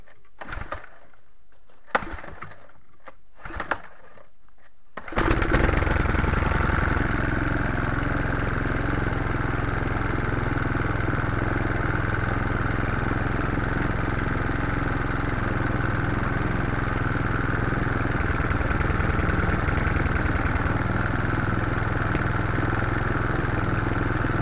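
After a few sharp pulls and clatters, a lawnmower engine catches and settles into a steady, loud, buzzing idle that runs on continuously and evenly, with no talk.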